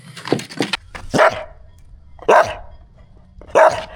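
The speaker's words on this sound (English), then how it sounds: "Who are you barking at?" A dog barks aboard a liveaboard boat: a few quick yips and then three loud, close barks spaced about a second apart, with no talking.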